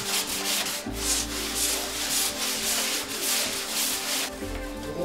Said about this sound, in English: Fillers and sanding finish the look of the car.